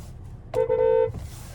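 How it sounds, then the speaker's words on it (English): A single short honk from the horn of a 2025 Hyundai Sonata, a clear, fairly loud, steady electric tone lasting about half a second inside a quiet cabin. "There's the horn sound."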